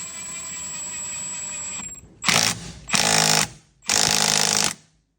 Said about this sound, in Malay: kita gunakan soket saiz 16 untuk kita nak ketatkan.